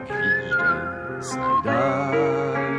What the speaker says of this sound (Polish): Z lat dawnych gwizdę,